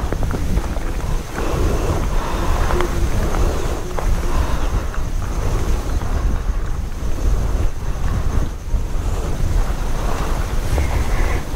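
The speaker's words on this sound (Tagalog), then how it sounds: "Yun, ang ganda ng dagat." Sea waves wash and churn on an island shore under strong wind buffeting the microphone, a loud, continuous roar without voices.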